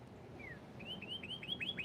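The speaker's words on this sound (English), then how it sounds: "A little birdie up there" A small bird gives a run of quick, high rising chirps in a steady rhythm, faint and distant over a soft background hush.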